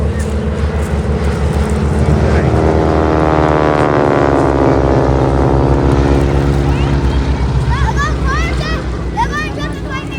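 A propeller airplane roars past at an air show in Bray, Ireland, loud and close, its engine note sweeping by over steady ambient noise, with faint voices in the crowd.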